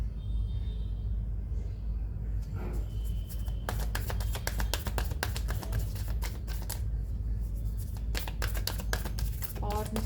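A deck of cards being shuffled, dense rapid riffling clicks in bursts, close and crisp, with someone talking softly before the shuffling starts.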